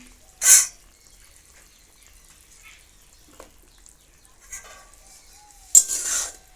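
Eggplant pieces stirred with turmeric, salt and water in a pan: two or three short, bright scraping strokes, close and fairly loud, separated by near silence.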